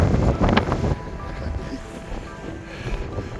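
Strong gusting wind buffets the microphone on a clear but wet Scottish mountain summit, Meall Bhuidhe in Glen Lyon. A heavy roaring rumble comes first, then it eases to a steadier, lower blustering.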